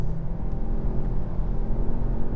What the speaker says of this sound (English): So I'm just going to put it back to drive and let's feel power here.